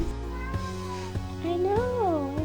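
A kitten gives a few rising, wavering meows close by, the last one longer and more drawn out, over a steady background hum.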